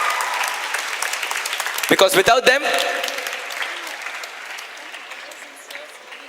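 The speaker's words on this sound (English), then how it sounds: "let us have a huge round of applause for them" An audience claps for the editors at a Model UN conference, a broad applause that swells near the start, then fades into scattered clapping as someone speaks over it.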